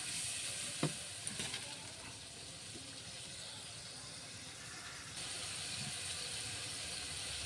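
Mutton kosha masala sautés in a pan with a constant bright sizzle and hiss, with a couple of stirring knocks near the start.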